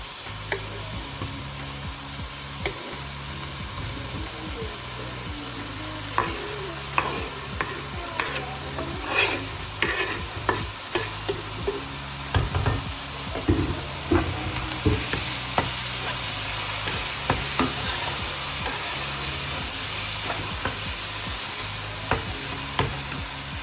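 Chopped tomatoes and pepper fry with onions in a pan for an egg stew, a constant sizzling hiss broken by repeated clicking scrapes and taps of a spoon stirring, with no talking.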